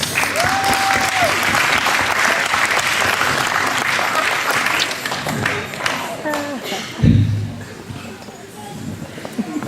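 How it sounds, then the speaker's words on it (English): Audience at a school Christmas play giving a singer a round of applause, dense steady clapping that fades after several seconds into a quieter room with a voice speaking. "Why don't we go ahead and give her a round of applause?"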